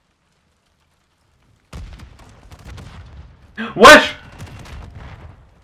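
A single loud blast with a sharp crackle, like a grenade explosion, goes off in a Call of Duty Modern Warfare 3 Domination match, with rough gunfire-like noise around it. Someone talks over the game sounds before and after the blast.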